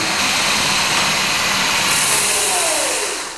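A Mini Goat electric bike, capable of around 50 mph, whirs steadily as its motor drives a fast-spinning wheel, loud and close, with a falling whine near the end.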